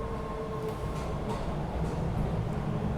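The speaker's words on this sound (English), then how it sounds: "I'm grateful that the trains are running." A subway train runs with a continuous low rumble and rail hiss, a faint tonal whine sitting over the steady mechanical noise.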